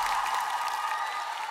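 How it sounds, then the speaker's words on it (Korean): A studio audience applauds at a Korean TV variety show, a dense and steady patter of clapping that lasts the full moment. "박수 부탁드리겠습니다"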